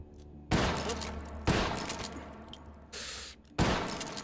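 Lever action rifle fire in the VR shooter Hot Dogs, Horseshoes & Hand Grenades, four loud close shots spaced about a second apart, each with a sharp attack and a decaying tail, with no talk.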